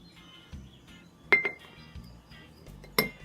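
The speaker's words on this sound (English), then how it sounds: "Then we're gonna put in the ginger roots." Fresh ginger roots dropped into a glass jar while making a turmeric tincture: soft thumps and a few sharp glassy clinks, two standing out clearly, in a quiet kitchen.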